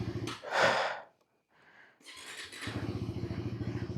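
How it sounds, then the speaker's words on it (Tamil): A motorcycle on a cold start after a week unused: breathy cranking noises, a brief pause, then the engine catches into a steady, pulsing, rhythmic idle close by. "Anyways, gold start."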